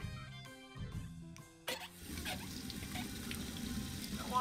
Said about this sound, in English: turned on the faucet over the wash basin.